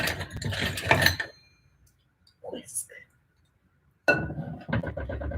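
Cookie ingredients whisked in a bowl during home baking, heard as a short burst of scraping, clinking strokes between stretches of talk and a quiet pause.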